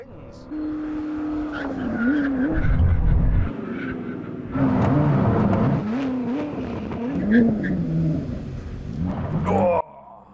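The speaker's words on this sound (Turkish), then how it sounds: "Şimdi saati 150 km hızla fren testi yapacağız." A Koenigsegg Jesko and a Bugatti Chiron Super Sport brake hard from 150 km/h with a loud rising and falling tire squeal and engine noise, in two long bursts, with voices talking over it.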